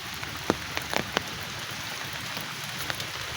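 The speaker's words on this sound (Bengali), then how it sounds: "বৃষ্টির পানি এখানে" Rain falls on an open crop field on a quiet morning, a steady soft hiss broken by a few sharper drops landing nearby.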